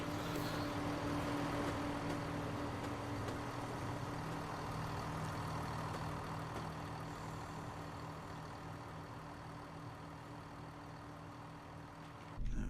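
An old diesel train engine runs in Train Sim Classic, a steady loud rumbling drone with a constant low hum that holds for several seconds, fades slightly, then swells briefly at the very end, with no talk.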